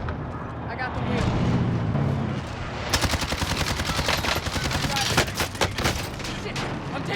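Call of Duty Warzone gunfire crackles in dense automatic bursts. The sharp shots pile up loudly over a continuous game soundscape, with voices talking underneath.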